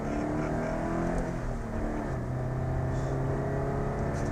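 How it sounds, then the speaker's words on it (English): Car engine pulling hard in second gear, a steady loud revving drone with rising harmonics, heard from inside the cabin with no talk over it. "Let's go down to second gear here."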